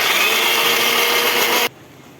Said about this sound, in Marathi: ही बचलेली डाळ आहे ती पण अशीच वाटून घेत आहे मी